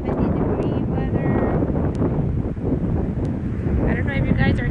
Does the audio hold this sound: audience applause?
no